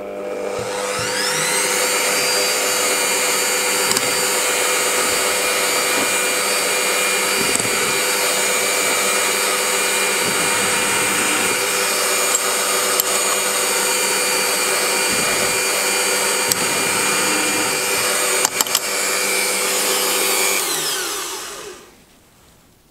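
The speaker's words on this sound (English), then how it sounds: "Now I'm just going to try and countersink them a little bit to get rid of the burr." A power drill countersinks holes in the metal parts of an M1 bayonet, giving a steady, loud whirring drone that runs almost unbroken for about twenty seconds before winding down at the end.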